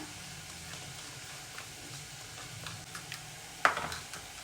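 Chillies, salt and turmeric stirred together in a pan, a soft scraping over a low sizzle, with one sharper clink of the utensil near the end.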